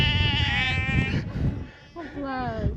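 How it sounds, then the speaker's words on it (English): Two loud, wavering Lundy sheep bleats close by on Lundy island, one long and one shorter after a brief pause, with some rustling between. "The Lundy sheep are very vocal, I don't know if you can hear them."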